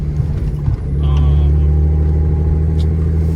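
Lexus IS300 with a five-speed manual and unlocked ECU revving up, a deep engine drone that swells after a brief dip and holds strong and close, with faint speech mixed in.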